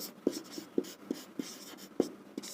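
Chalk or marker strokes on a board during a class 7 statistics math lesson, sharp distinct taps and scratches at an uneven pace, close and clear, with no talk.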